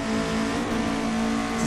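Lada 2101 in Assetto Corsa, its engine droning loud and steady at a fairly constant rev for a short moment, close and unbroken, with no talking over it.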